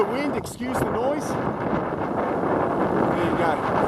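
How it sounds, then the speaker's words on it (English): Strong gusts buffet the microphone at a coastal clifftop fortification, a steady loud roaring rumble that fills the whole stretch, with a voice briefly speaking near the start. "Excuse the wind, excuse the noise."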